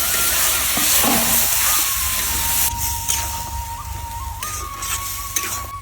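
Water poured into a hot pan of cooking pea greens, with a loud steady sizzle and hiss that gradually fades into a quieter bubbling simmer with a few faint clinks.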